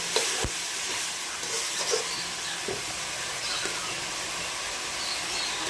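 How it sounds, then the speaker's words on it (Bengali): Curry masala sautéing in oil in a pan for a chickpea, potato and pointed gourd curry, giving a steady close sizzle and hiss with a few faint scrapes of stirring and no talk. "তেল ছেড়ে ছেড়ে আসলে তখন বুঝবো কষা হয়ে গেছে"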